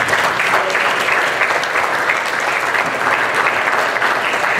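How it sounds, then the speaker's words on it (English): Audience applauding in appreciation of fathers at a church gathering: dense, steady clapping from a large crowd, loud and sustained throughout without a break. "can we just appreciate our fathers again with a round of applause?"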